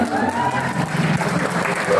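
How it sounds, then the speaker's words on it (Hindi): A crowd at a live Bhojpuri stage show in Bangalore applauds a singer, dense clapping that runs steadily under a talking voice. "अरे इनके लिए जोरदार ताली हो जाएगा"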